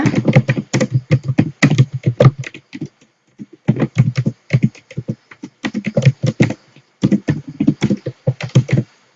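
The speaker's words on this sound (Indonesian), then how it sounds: "Kemudian kita ketikkan pertanyaannya." Quick, crisp keystrokes clatter on a computer keyboard as a quiz question is typed, coming in close bursts separated by short pauses.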